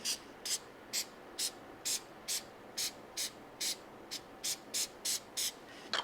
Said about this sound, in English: just spray some of this on